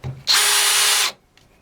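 A compact cordless drill bores a half-inch hole, giving one loud, steady high whine for about a second that stops abruptly, with a faint tap afterward.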